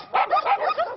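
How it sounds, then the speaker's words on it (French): Several small dogs, griffons, loulous and chihuahuas among 338 rescued by the SPA de Lorraine, yap and bark in quick overlapping bursts, close and fairly loud. "Ce ne sont pas 101 dalmatiens, mais 338 griffons, loulous et chihuahuas que la SPA de Lorraine vient de récupérer"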